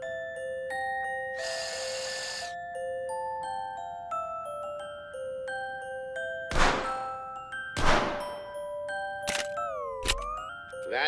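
Shots hit targets in The American Dream VR, landing as a few sharp, loud bangs and thunks spaced a second or two apart over a bed of bright, tinkling game tones and a noisy hiss early on.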